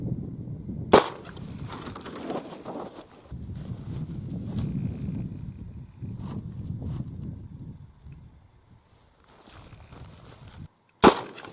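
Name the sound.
shotgun slug shot at a milk jug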